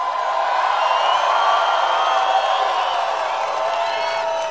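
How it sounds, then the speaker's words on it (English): A large crowd at a Trump rally in Missoula, Montana cheers and claps in a loud, sustained roar that holds steady throughout with no breaks. "It's a great crowd."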